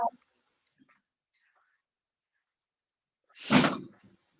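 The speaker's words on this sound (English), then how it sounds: "That was a door." A door thuds shut once, fairly close, in a quiet room after a long near-silent stretch, with a few faint soft noises beforehand.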